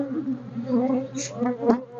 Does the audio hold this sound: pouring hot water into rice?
no